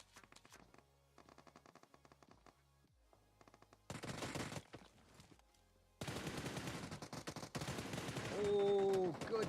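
Gunshots during a competitive battle royale tournament match, scattered bursts of fire that start faint and grow into dense, loud exchanges, with game sounds layered over them.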